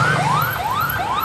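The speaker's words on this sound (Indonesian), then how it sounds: "satu mobil pemadam kebakaran kembali datang." A fire engine responding to a big fire in Cikarang sounds its siren close by, three quick rising yelp sweeps repeating loudly over a low traffic hum.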